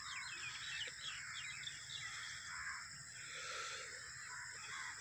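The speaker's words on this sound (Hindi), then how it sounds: "बहुत ही प्यारी जो है वो परिंदों की आवाज़ आ रही है" Birds chirp and call, crows among them, during a dawn morning walk outdoors, a soft, continuous layer of overlapping calls heard faintly at a distance.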